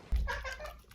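A pet cat lets out one short, close meow over a low thump and faint background hiss.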